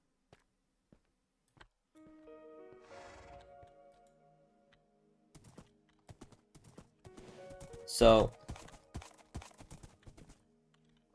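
Hollow clip-clop of a horse's hooves trotting in Minecraft, with steady ticks, a single loud thump in the middle, and a brief spoken word near the end.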